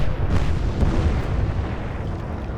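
Naval broadside cannon fire in the Atlantic Fleet video game, heard as a loud, sustained rumbling boom that rolls on and slowly fades, with no talk over it.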